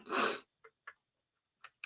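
A single loud close sneeze bursts out at the start, followed by a few short faint breaths or sniffs spaced over the next second and a half.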